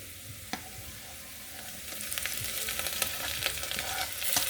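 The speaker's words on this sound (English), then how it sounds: "So just continue frying. At this point, our onions are cooking well." Onions fry in a pot for Kenyan beef pilau, a faint steady sizzle with occasional stirring clicks and scrapes, growing slightly louder toward the end.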